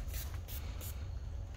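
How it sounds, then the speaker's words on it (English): Short hissing bursts of a ceramic coating aerosol spray on a car, three quick pulses over a steady low rumble of background noise. "I'm gonna spray some of this ceramic on it real quick."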